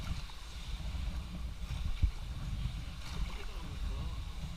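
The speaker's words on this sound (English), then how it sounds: "the sound of the scraping seaweed on your boat" Seaweed scrapes along the hull of a paddled boat rounding the island of Eilean Shona: a continuous low rustling drag mixed with water and wind noise, with one sharper knock partway through.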